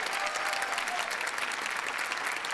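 Steady, dense applause from a studio audience on a Marathi comedy show, greeting a performer being welcomed onstage; continuous and fairly close with no voices.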